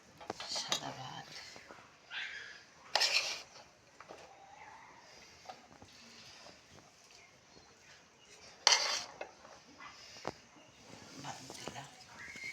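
A metal spoon serves white rice onto a plate at home, giving two sharp clinks against the dish amid soft scraping and handling noises, with quiet speech in the background.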